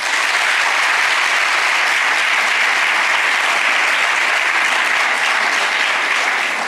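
Dense, loud applause from a large audience at a student symposium, sustained evenly for several seconds with a hint of crowd noise beneath.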